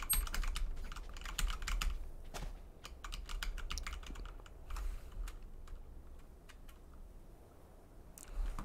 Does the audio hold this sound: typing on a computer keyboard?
yes